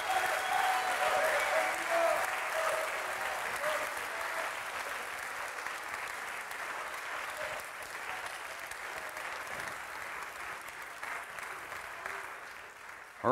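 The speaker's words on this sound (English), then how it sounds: "let's give Jesus a round of applause today" Sustained applause from a large church congregation fills the room, steady and loud with scattered cheers, tapering slightly toward the end.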